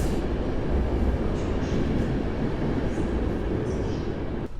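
The Intercity train Sienkiewicz from Kraków to Olsztyn rumbles loudly and continuously at Warszawa Centralna station, a dense, close roar of wheels and cars with faint higher squeals drifting through.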